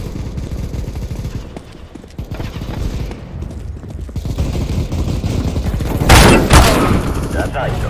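Gunfire in Counter-Strike: Global Offensive during a team deathmatch on the Vertigo map, dense rapid bursts of shots over a constant busy game din, loud and close, with a sharper burst near the end.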